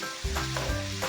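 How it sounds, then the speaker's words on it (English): Sweet corn stir-frying in a pan for Nigerian fried rice, with a steady close sizzle and soft scraping stir strokes running the whole time, slightly louder toward the end. "So I'll stir fry this for a few minutes."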